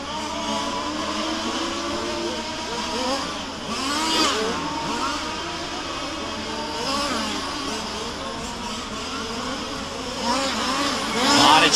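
Racing vehicles scream around the track during an A Main race at Warm Springs, their engines revving and changing pitch as they pass in a continuous, fairly close stream.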